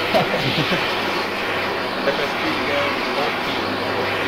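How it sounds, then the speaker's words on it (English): Steady droning propeller-plane engine in Arma 3 on the Altis map, a continuous broad rumble and hiss that stays loud throughout, with speech mixed in over it. "I can't hear you over the fucking plane."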